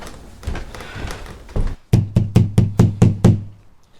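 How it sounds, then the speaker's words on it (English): Knocking on a door: a few scattered thumps, then a rapid, evenly spaced series of about seven firm, close knocks that stops abruptly. "Just open the door. You don't have to keep knocking."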